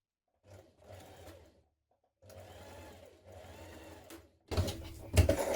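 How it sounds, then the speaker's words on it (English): A sewing machine stitching a line along a jumpsuit seam, running in three short bursts separated by pauses, close and alone, the last burst louder and harsher. "just stitch down a line of stitching just there"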